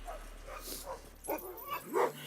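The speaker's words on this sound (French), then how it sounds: "C'est beau, les chiens. Ouais, c'est des bons chiens" Sled dogs bark and whine nearby in a few short yips and whimpers, rising to one sharper bark near the end over a low steady background hum.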